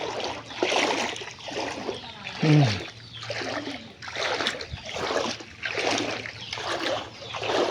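Footsteps splash and slosh through flood water covering a road in Noakhali during a flood. The wading strides repeat rhythmically and sound close, with a brief voice partway through.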